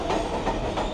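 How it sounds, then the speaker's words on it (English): A train passing at Sunnyside station in Queens, a steady continuous rumble with faint rhythmic clatter, heard close by for a moment without talk. "You can hear actually the train right here behind me."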